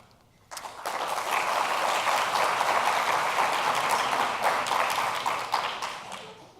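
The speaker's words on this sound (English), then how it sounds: "I appreciate you clapping" At a medical school graduation celebration, an audience bursts into applause after a short quiet moment, and the steady crowd clapping keeps going loudly for several seconds before easing off.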